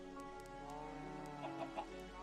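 Chickens cluck in a Minecraft modpack game, a few soft clucks over steady background music, moderately faint with no talk.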